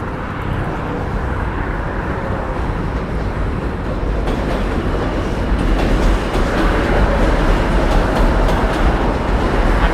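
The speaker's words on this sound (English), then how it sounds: "M train coming." An NYC subway M train roars past steadily and loudly, a broad continuous rumble with clattering that swells slightly toward the end.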